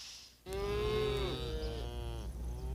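A single cow lets out a long, loud, close moo with a rising then falling harmonic tone, lasting around two seconds, preceded by quiet background.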